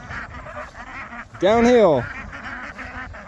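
Ducks on a small homestead quack loudly in a short burst while being herded downhill toward a field pond, with a person calling to them in the same moment.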